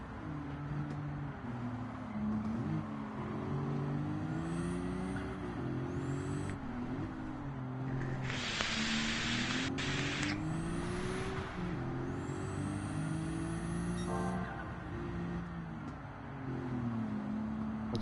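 A tuned car with a low-level turbo or supercharger racing in Gran Turismo 7, its engine droning and rising steadily through mid RPM for the whole stretch, with a brief hissing burst partway through.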